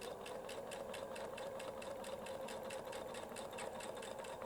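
A Weightless Quilter sewing machine runs steadily, stitching a clamshell quilting pattern, with a faint, even rapid mechanical hum and rhythmic needle ticking throughout.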